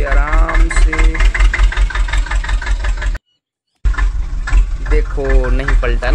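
A mini tractor loaded with white cement runs as it is driven slowly, its engine chugging steadily under constant background music and voices, with a brief silent gap midway.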